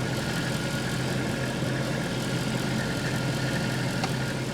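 A Mercedes S63 engine runs at a steady idle during a power steering test, a constant low hum with faint vibration close by and no talking.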